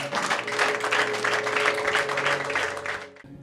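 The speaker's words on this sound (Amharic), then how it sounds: "ለጌታ ክብር አጨብጭቡ።" A church congregation claps together in a dense, rhythmic burst over a sustained low musical hum, the clapping fading out as the clip ends.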